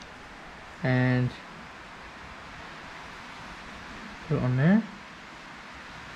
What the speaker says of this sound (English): Sorry about the noise, it's raining.